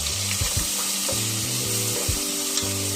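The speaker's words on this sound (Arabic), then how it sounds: "نسيب البصل بتاعنا يتشوح" Minced onion sautés in hot oil for stuffed cabbage, a close continuous sizzle broken by several stirring scrapes and clatter from the pan.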